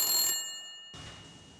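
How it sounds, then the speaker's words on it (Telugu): An incoming call rings on a mobile phone, a short electronic ringtone burst, then a pause and a second burst, fairly quiet and heard alone. "ఇదేంట్రా టాపర్ ఫోన్ చేస్తున్నాడు నాకు?"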